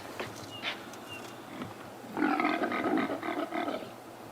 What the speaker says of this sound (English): it was just the humble impala who were rutting, of course